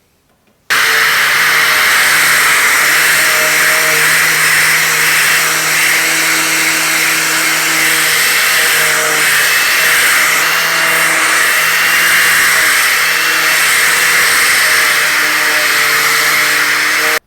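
A power sander with a sanding disc whines steadily and loudly on a live edge wooden bench for the whole stretch after starting abruptly, with a constant high-pitched grinding hum and no talking.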